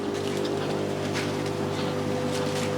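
A granular packaging machine runs after being started with a 100 gram weight set, giving a steady, even mechanical drone with a constant hum throughout, loud and close, with no speech.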